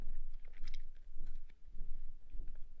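A crunchy dried apple chip is chewed close up in a quiet room, giving a series of crisp bites and crunches in an uneven rhythm.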